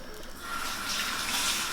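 Tap water runs over corn couscous grits as they are rinsed in a bowl. The rushing, splashing flow is close and steady and grows a little louder partway through, with no speech.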